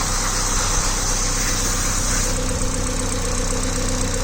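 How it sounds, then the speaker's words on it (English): A 2.5-litre swapped Mazda NC Miata engine idles steadily under the hood, a continuous low mechanical hum with a faint ticking texture, close and even throughout with no voices. "the engine's still running fine"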